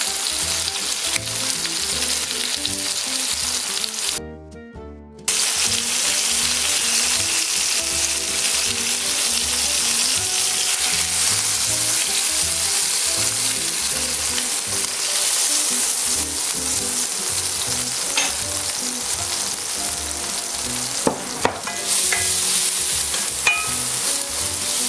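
A cockerel frying in a pan with garlic and carrot for a fricassee, a loud continuous close sizzle and crackle that holds steady, with a brief pause and a few stirring knocks.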